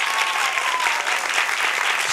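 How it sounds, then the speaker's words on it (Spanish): An audience bursts into dense, steady applause at a live festival audition, loud and close, with many hands clapping continuously and no voices on top. "Paz Carballo, un aplauso para ella, por favor."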